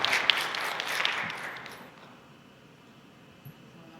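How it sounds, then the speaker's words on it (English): A short burst of applause from a graduation ceremony crowd that fades away quickly into quiet. "please give the board one more round of applause"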